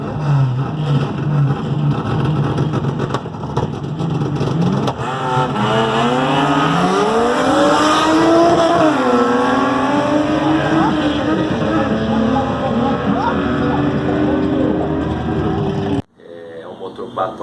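A Chevrolet Opala with a lightened four-inch-stroke engine on three Weber 44 carburetors revs hard, its loud raspy note sweeping up and down steadily before cutting off abruptly near the end.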